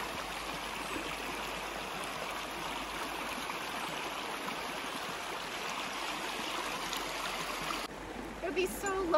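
A brook babbling steadily nearby, a continuous rushing and trickling wash of water, with a slight change in tone near the end.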